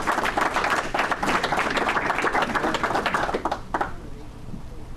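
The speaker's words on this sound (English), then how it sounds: "please give a warm round of applause to Chris Ronay." Audience applause at a Rotary club meeting as a speaker is welcomed, dense steady clapping from a crowd lasting several seconds, then stopping abruptly with room quiet following.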